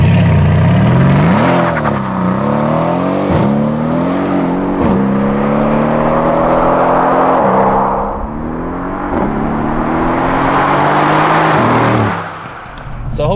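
A Mercedes-AMG C63 S launching with traction control switched off, its engine roaring and revving hard through repeated surges while the tires spin and shred, loud and close throughout.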